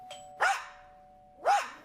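A doorbell dings once, then a dog named Pedro gives two sharp, loud barks about a second apart, close by with near silence between them.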